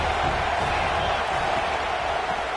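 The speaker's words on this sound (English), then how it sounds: "This crowd bringing the energy and noise early." Stadium crowd at a college football game, a dense, steady roar of many voices filling the air without pause, loud and continuous.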